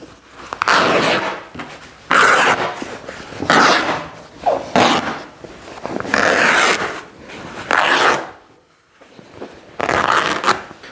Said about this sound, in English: and we tear the fabric